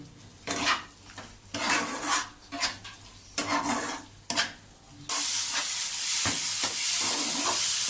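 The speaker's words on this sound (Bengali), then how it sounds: "আমি এবার চেরা কাঁচা লঙ্কাগুলো দিয়ে দিলাম" Slit green chillies stirred into frying spice paste for a spicy fish curry, a spoon scraping the pan in short rhythmic strokes, then a loud steady sizzle bursting up and holding for the last few seconds.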